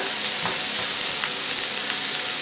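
Onions sautéing in hot oil previously used to fry chicken, a dense, steady sizzle that crackles continuously throughout with occasional stirring, close and fairly loud.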